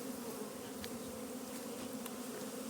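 Honeybees flying around hives at an apiary, a steady close buzzing drone that holds evenly throughout with no voices.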